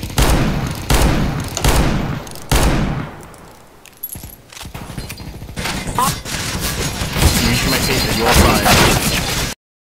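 Bursts of rapid gunfire fill a first-person shooter match, loud volleys breaking off briefly before sustained shooting resumes, with players shouting over the noise.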